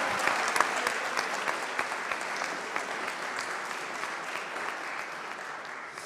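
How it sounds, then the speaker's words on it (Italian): An audience at a youth event claps steadily in applause, a continuous wash of many hands with some sharper individual claps, holding at an even level throughout. "un grande applauso a Prima Cassa"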